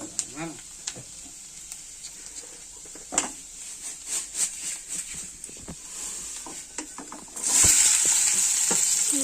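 Garlic frying in a pan for soybean chilli, with a close steady sizzle and repeated stirring scrapes, then a sudden loud hissing surge near the end.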